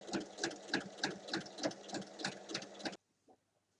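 A sewing machine stitches bag pieces together right sides facing, a close, pulsing mechanical whir with a quick regular beat that stops abruptly, followed by a faint click.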